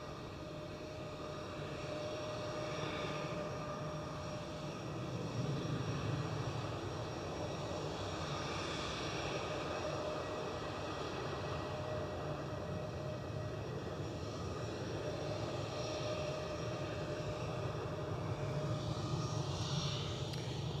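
A passenger jet departs Edinburgh airport, its engine roar steady and broadband, heard from a distance for about twenty seconds, swelling slightly partway through with no voices.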